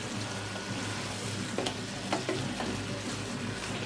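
Native chicken adobo sizzling steadily in a pan, with a constant hiss of oil and a few scraping clicks as it is stirred, close and even throughout.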